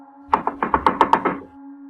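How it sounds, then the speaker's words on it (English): About eight quick, hard knocks rap against a cabin door late at night in a frantic, uneven burst, then stop, leaving a low steady hum behind. "there was a frantic knock at the door"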